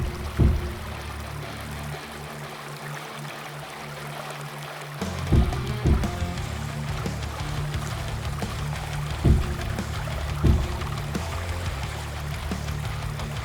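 Water sloshing and pouring in the block-building video game Creativerse, a steady flowing stream with several sharper splashes and thumps breaking through at intervals.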